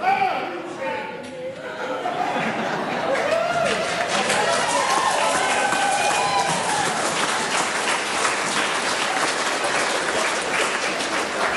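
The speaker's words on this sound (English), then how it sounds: "I just want to say to the whole gallery who's applauding" During the New Zealand Parliament vote on the Treaty Principles Bill, a few raised voices are followed by sustained, loud applause from the public gallery, mixed with some laughter and crowd noise.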